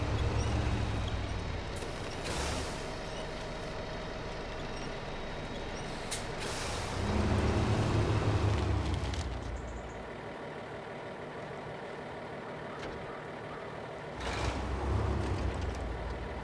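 A heavy truck in the video game SnowRunner rumbles at low engine revs while backing up, with several sharp air-brake hisses breaking through the steady drone at intervals.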